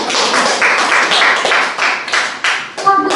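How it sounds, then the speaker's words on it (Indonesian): A group of people in a classroom claps hands together, a dense, close round of clapping with uneven swells that keeps going for several seconds before a final few scattered claps. "tepuk tangan."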